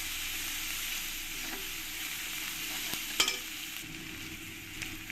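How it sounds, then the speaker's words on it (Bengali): Onions and green chilies fry in a pan in a steady, even sizzle, broken by a few faint clinks of a spoon. "কাঁচা লঙ্কাগুলো আমি একসঙ্গে পেঁয়াজের সঙ্গে ভেজে নেবো"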